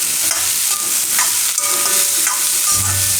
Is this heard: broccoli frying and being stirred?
yes